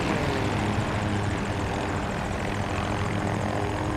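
A helicopter in the Battlefield 2042 video game drones with a steady, loud rotor and engine roar that holds constant throughout, with no voices over it.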